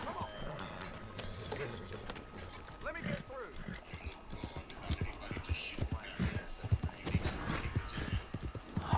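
Horse hooves clop in a quick, uneven galloping rhythm in Red Dead, mixed with game sounds and a voice speaking over it.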